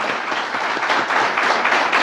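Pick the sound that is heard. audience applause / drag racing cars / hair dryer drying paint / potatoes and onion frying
audience applause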